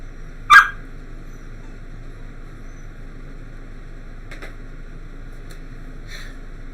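A dog gives one sharp bark near the start, followed by faint, brief yips or whimpers over a steady low background hum, with no talking.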